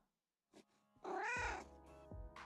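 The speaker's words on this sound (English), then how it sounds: "Mysterious and elegant creature. You mean a cat?" A cat meows in a video game set in a quiet manor with wind and rain outside: a short soft mew, then a long, loud wavering meow followed by a brief trailing call, close and alone.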